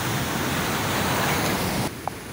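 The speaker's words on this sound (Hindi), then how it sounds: "पानी का बहाव देखें, पानी की आवाज़ कैसी है, इतनी शदीद आवाज़ ऊपर तक आवाज़ आती है, इतना शोर शराबा" Floodwater thunders through Taunsa Barrage in Punjab, Pakistan, as a loud, dense, unbroken roar of rushing water. The roar drops abruptly to a quieter hiss near the end.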